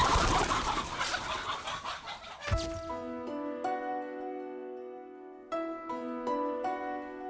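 Farm chickens cluck and call in repeated short bursts close by, following a few seconds of broad rustling noise; no one speaks.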